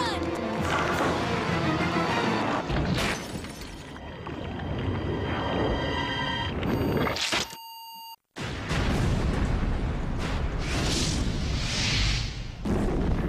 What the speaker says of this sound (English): So that was a big enough explosion